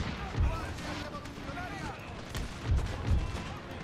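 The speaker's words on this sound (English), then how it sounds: "A lot of shots are going over the enemy army" Musket volleys crackle in a Total War: Pike and Shot battle between Spain and France, with a few deep booming shots and a dull rumble beneath a busy field soundscape.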